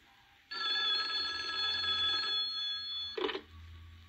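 A hotline telephone bell in a 1975 Batman audio drama rings loudly: one long ring of almost two seconds, a pause, then a short burst, with no talk.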